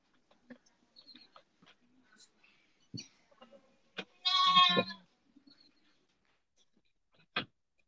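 A six-month-old full-blood male goat kid on a goat farm lets out a single clear bleat amid quiet farm background with scattered clicks and small knocks.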